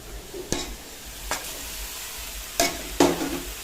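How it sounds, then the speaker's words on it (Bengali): Previously fried fish pieces go into a hot pan for a spinach-stem dish and are stirred, a steady sizzle broken by four sharp spatula scrapes, close by with no talking. "এখন আমি মাছগুলো দিয়ে দেবো।"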